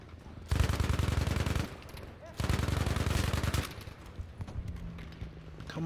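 Video game gunfire from a crouching shooter comes in two dense sustained bursts of rapid shots, loud and close, separated by short pauses, with quieter scattered shots and a faint tone trailing afterward.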